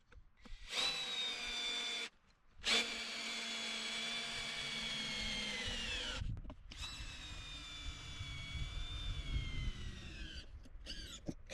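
A power drill driving bolts into a wooden raised garden bed, two long whining runs with a short pause between, then a rougher grinding stretch as the bolt seats, close and loud.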